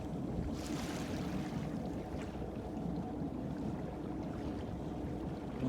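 A small boat idles along at about 4 knots in light following seas off Alaska, towing a tiny barge loaded with pilings. Its low engine rumble and water wash run steady and continuous under wind noise.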